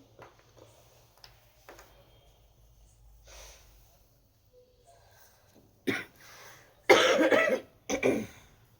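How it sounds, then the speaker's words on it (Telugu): A woman coughs during a live saree sale broadcast: a few harsh, close coughs in quick succession after a long, quiet stretch with faint background noise. "లిటిల్ బిట్ కాఫ్ ఉంది కొంచెం"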